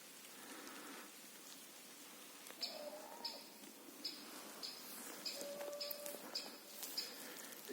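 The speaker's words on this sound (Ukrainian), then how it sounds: "якась пташка в лісі" A bird calling in an autumn forest during rain, short high chirps repeated in a regular series, faint and distant over the steady patter of rain.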